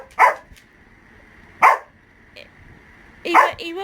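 A dog gives three sharp, loud barks spaced about a second and a half apart, close by, over a faint steady hum.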